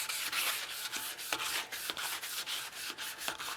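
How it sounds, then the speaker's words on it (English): A Scotch-Brite pad scrubs a greasy swing arm from a 1993 Honda CR250R motorcycle, making steady back-and-forth rubbing strokes, close and continuous, with no voices. "I've Scotch-Brited the whole thing, got most of the grease off of it."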